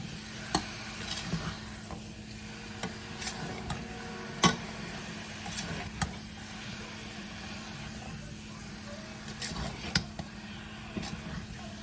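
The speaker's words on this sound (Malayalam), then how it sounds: "നല്ലവണ്ണം ഇളക്കി അതിൻ്റെ ഒരു പരുവാകുന്നതിന് വരെ ഇളക്കിക്കൊണ്ടിരിക്കുക" Kerala beef curry, Kottayam style, being stirred in a pan, with a continuous low sizzle and scattered scraping and knocking of the spoon at irregular intervals, moderately quiet throughout.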